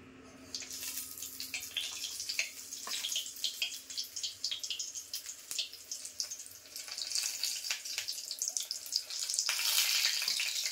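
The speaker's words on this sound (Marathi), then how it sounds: "झाल्यात, एवढा कलर येईपर्यंत तळून घ्यायच्या।" Mirchi bhajji, batter-coated chili fritters, sizzle and crackle steadily in hot oil, a close, continuous frying hiss with scattered pops that grows slightly busier near the end.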